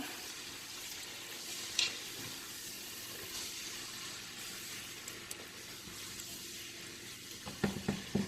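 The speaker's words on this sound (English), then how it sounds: "And then I'm gonna stir it up like that." Food being stirred in a cooking pot over a steady background sizzle and hiss, with a few soft scrapes and clinks of the utensil near the end, close by and with no talking.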